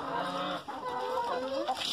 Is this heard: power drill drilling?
no